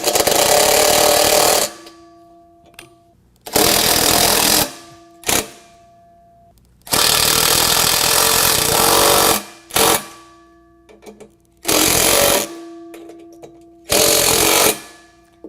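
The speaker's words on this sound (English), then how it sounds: "we've got some self-tapping screws in our kit that we're going to use a 5/16 socket and impact driver to put them in" An electric impact driver with a 5/16 socket drives self-tapping screws while a headache rack is fitted to a 2020 Ram 2500. About six loud, rattling bursts of a second or two each are separated by short quiet pauses.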